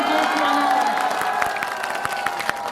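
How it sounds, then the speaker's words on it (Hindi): A rally crowd at a victory celebration in a New Seelampur market applauds and cheers, with scattered claps and shouts over a sustained voice, lively but moderately loud. "कमजोर है तालियां, ऐसे काम नहीं चलेगा,"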